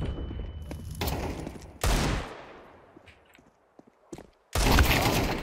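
Gunfire in the video game CS2, loud bursts of automatic shots separated by quieter gaps with a few lone sharp reports, ending in a heavy sustained volley.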